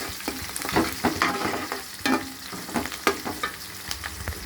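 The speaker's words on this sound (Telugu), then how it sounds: "పచ్చిమిరపకాయలు ఉల్లిపాయలు పోపులు వేసి ఫ్రై చేసుకుంటున్నాను" Onions, curry leaves and green chillies fry in hot oil for a country-style small fish curry, a close sizzle broken by repeated stirring scrapes and clacks of a spoon against the pan.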